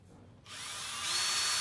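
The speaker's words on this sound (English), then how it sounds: "Drill another hole in. Do one up top here." A power drill whirs up and bores into wood, a steady high whine that rises in pitch and loudness over a second, close by.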